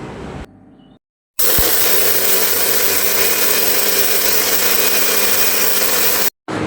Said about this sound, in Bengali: এবার এটাকে রোদে দিয়ে মিক্সিতে করে পিষে নিতে হবে।